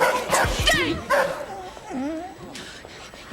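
A dog yips and whimpers in short, excited bursts, close by and mixed in with people talking.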